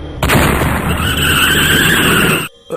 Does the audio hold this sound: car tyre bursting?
yes